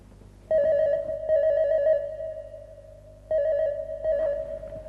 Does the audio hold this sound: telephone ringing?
yes